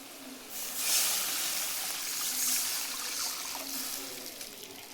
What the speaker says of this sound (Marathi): पाणी टाकायचं आहे।